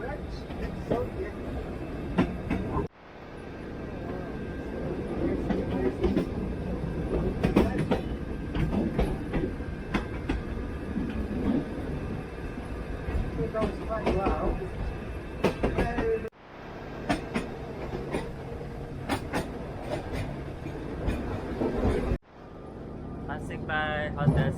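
Historic tram rolling through Sóller on Mallorca, a steady rumbling ride with rail clatter throughout, broken by a few abrupt cuts, with people talking over the running noise.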